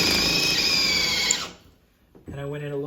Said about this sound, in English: So I'm going to go directly into where your pilot hole is.